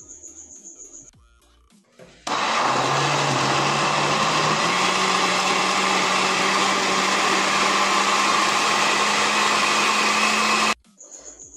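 A blender grinds onion with chicken broth for Salvadoran pupusas. It switches on abruptly after a couple of quiet seconds, runs as a loud, steady motor whir for about eight seconds, then cuts off sharply.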